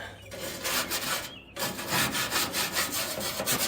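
A wire brush scrubs the cooking surface of a Blackstone griddle during restoration, a loud, rhythmic back-and-forth scraping with rough bristly strokes, pausing once briefly before continuing in quick repeated passes.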